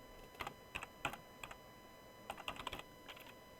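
A computer keyboard is typed on in short, quiet clusters of sharp clicking keystrokes with brief pauses between them, close up and otherwise silent.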